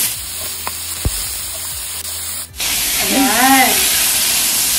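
Chicken sautéed in a pan for pancit canton sizzles and hisses loudly, starting abruptly after a quieter moment and continuing as a steady bright spray while a voice speaks briefly over it.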